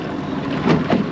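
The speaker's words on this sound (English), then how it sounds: "We got our trolling motor up front holding us." A fishing boat holds position near a wreck on spot lock, with its bow trolling motor and main engines running: a steady low motor hum on the water, rising slightly toward the end, with some wind.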